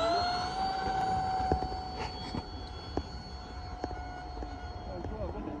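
A Max Thrust Aggressor RC plane's engine whines steadily through a running takeoff, a sustained tonal drone that holds under background noise with a few knocks and bumps.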